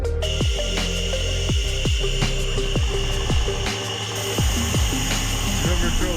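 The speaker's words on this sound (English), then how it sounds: "We're going to drill the hole" CNC drilling of stainless steel on a Haas machine with through-spindle coolant runs in quick repeated cycles, with sharp descending sweeps over a steady high whine and a constant hiss of fluid.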